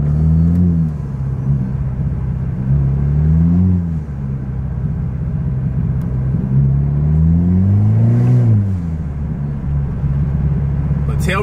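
A Honda Civic exhaust rumbles and burbles close by, the engine revving up and easing off in several slow waves.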